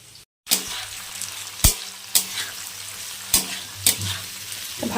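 Amla pickle with Kashmiri chilli powder, red chilli powder and spices is stirred in a hot pan, a steady oily sizzle broken by several sharp scrapes and clinks of the spoon against the pan at irregular intervals.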